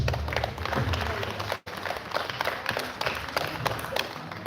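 An audience at a space camp's final-day event applauding, a dense stream of many hands clapping with a brief cut near the middle, fairly close and steady throughout.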